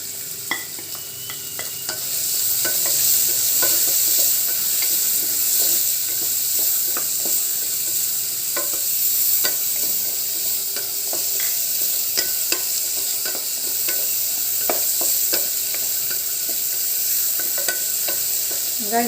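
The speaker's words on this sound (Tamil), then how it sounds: "ஸோ 1 கப் வெங்காயம் போட்டு தாளிக்க போகிறோம்." One cup of onions sautéing in a pan for a vegetable kurma, with a steady, loud sizzle and frequent clicks and scrapes from stirring throughout.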